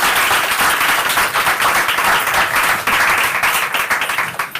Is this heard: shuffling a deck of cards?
no